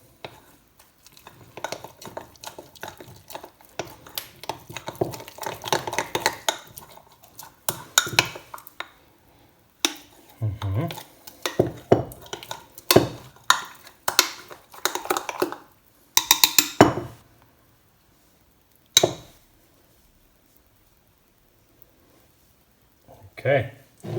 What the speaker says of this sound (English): Just stir this real nice.